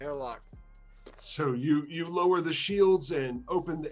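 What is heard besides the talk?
No distinct noise like a dog, phone or traffic.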